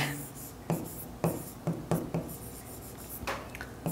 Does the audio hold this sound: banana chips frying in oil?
no